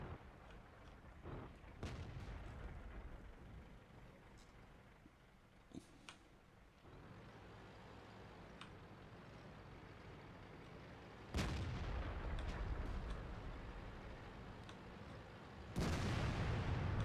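Tank cannon fire in World of Tanks, a few sharp booming shots standing out against a steady rumbling battlefield background, with sparse distant impacts.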